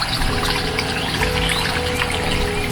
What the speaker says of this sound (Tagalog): Paglagay lang po tayo ng tubig.